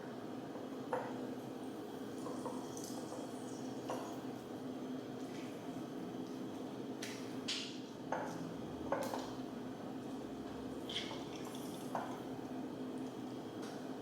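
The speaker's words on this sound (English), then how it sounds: "I'm gonna squeeze this lemon into a mason jar." A lemon is squeezed by hand into a glass mason jar, making faint squishing and dripping sounds with occasional light clinks of glass, quiet against a soft background hiss.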